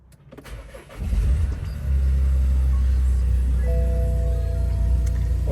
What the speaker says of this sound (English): I'm gonna get the car started.